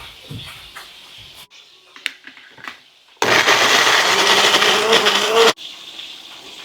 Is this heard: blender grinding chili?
yes